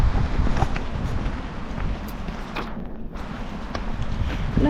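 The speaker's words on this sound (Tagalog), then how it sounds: "Ang hangin." Wind rushes and buffets against the microphone outdoors, a steady low roar with a few brief gusts and faint footsteps.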